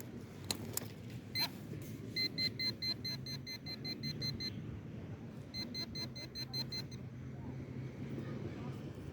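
A metal detector sweeping on a Florida beach at Indian Shores gives repeated rapid high-pitched beeps in two clear bursts, over steady wind and surf noise.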